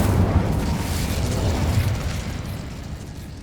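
Incendio fire spell cast in the Hogwarts Legacy video game: a loud, roaring burst of fiery whoosh that holds steady and slowly fades over a few seconds, with no voices.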